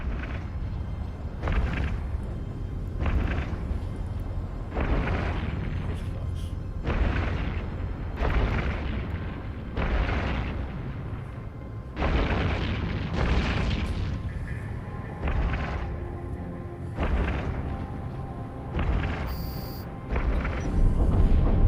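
Repeated heavy booms and rumbling blasts roll on as an enemy Seeker machine is blown to scrap in a video game, the explosions coming in irregular waves without a break.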